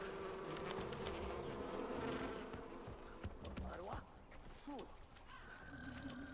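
Loud, steady insect buzzing of bees in the video game Far Cry Primal, a dense drone filling the clip with a few brief rising whoops and shifting tones layered over it.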